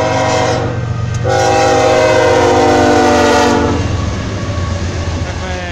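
A southbound BNSF freight train with a Kansas City Southern locomotive rumbles past on track 1 in light snow, its horn blaring loudly for about two seconds over the steady close-up roar of the wheels.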